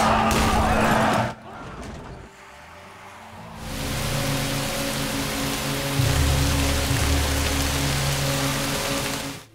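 Rain falls in a scene from the 2016 Korean film The Wailing: a steady, loud wash of hiss with a low droning hum beneath it, broken early by a brief quieter gap before the downpour swells again.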